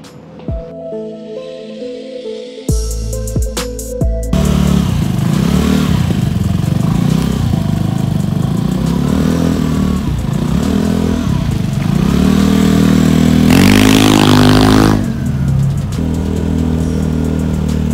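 A Vespa LX 150 automatic scooter runs steadily and loudly for most of the stretch, with a brief revving surge near the end, preceded by a few seconds of other quieter sounds.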